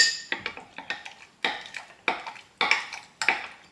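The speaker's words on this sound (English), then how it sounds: "I'm just going to give it a mix, because I've got a nice hot espresso" A spoon clinks and scrapes around a cup while stirring hot espresso over white chocolate at the bottom, a quick series of sharp ceramic taps in an uneven rhythm, close and clear with no talk.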